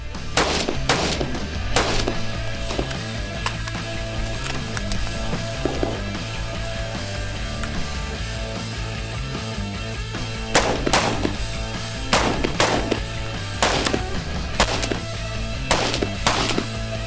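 Gunfire at a three-gun shooting competition: sharp shots sound in quick clusters near the start and again around the middle and end, loud and close over a steady low rumble, with no talk.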